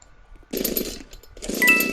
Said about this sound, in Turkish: Ee, niye testere?